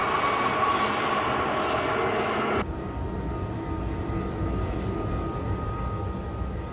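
Lockheed S-3 Viking military jet departing, a loud steady engine roar that drops abruptly in level partway through, then continues as a quieter sustained rumble.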